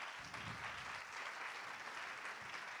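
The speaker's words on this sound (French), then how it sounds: "Et c'est Michel Chouteau qu'on peut applaudir qui est nominé" Faint, distant audience applause at an innovation awards ceremony, a steady wash of many hands clapping heard from afar, without talk.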